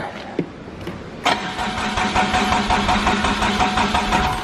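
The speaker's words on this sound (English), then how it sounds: "Needs a little glow plug action. The diesel likes a little heat to it." A diesel mower engine cranks after a glow plug warm-up, with a brief sputter before catching and settling into a steady, throbbing idle close by.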